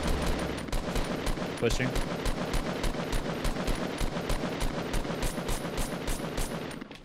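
Rapid automatic gunfire from a Fortnite Battle Royale match, a steady stream of close, loud shots repeating for several seconds, with a brief spoken word partway through.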